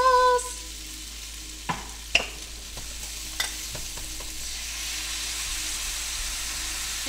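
Noodles and Alfredo sauce hit a hot skillet, a strong steady sizzle and hiss with a few sharp clacks of a utensil stirring, the hiss swelling toward the end.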